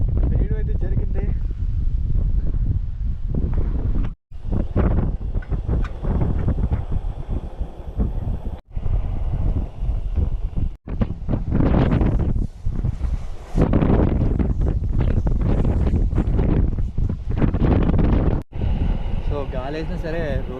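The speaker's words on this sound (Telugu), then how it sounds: "చాలా విపరీతమైన గాలి అయితే వేసేస్తుంది." Strong wind on a hilltop buffets the microphone in a constant loud roar with gusty surges, while a person talks over it almost throughout.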